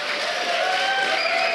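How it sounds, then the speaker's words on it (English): A crowd at a League of Legends esports playoff event claps and cheers for two players, a steady dense wash of applause that fills the whole brief moment. "Great applause here for the 2 gentlemen."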